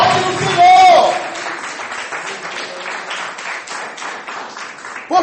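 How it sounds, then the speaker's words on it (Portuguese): A church congregation applauds steadily after a brief loud shout, the clapping spreading in a dense patter that fades slightly toward the end. "dá tempo para aplaudir o Senhor"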